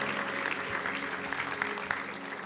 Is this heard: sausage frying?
no